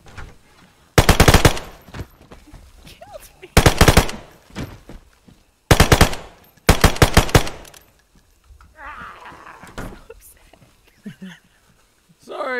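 Gunfire in the survival video game DayZ: several loud, short automatic bursts at intervals across the middle of the clip, with quieter stretches of talk and game ambience between them.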